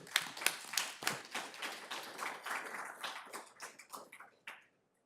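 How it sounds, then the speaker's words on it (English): Scattered clapping from a small crowd at a school board meeting, a few seconds of light applause with individual claps standing out before it stops abruptly. "I'd like to give them a round of applause."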